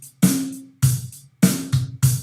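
A few short, choppy guitar strums at evenly spaced intervals, a brief straight, mechanical rhythm played close with no voice.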